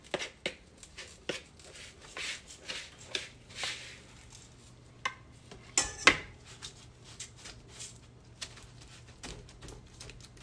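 Ginger snap cookie crumbs are poured and pressed into a greased springform pan, making scattered light taps, clinks and scrapes of metal and crumbs, close and quiet with no talk.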